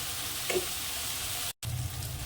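Spice paste with grated tomato frying in a pan for a fish-roe fritter curry, a soft steady sizzle with a faint stir, broken by a brief cut of silence near the end.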